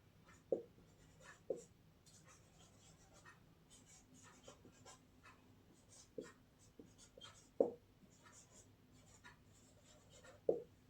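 A pen scratches across paper in short, quiet strokes with occasional sharper taps, close up in a calm room.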